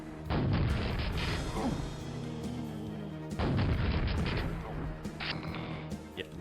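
Rocket launcher blasts in Quake's Dissolution of Eternity mission pack: two heavy explosions with rumbling, crashing tails, followed by smaller impacts and game effects, with a voice talking over parts of it.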